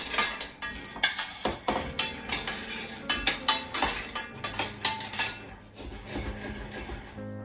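Peanuts lightly dry-roasting in a pan for peanut chutney, with a steady run of close clinks, scrapes and rattles as they are stirred and tossed, no talking.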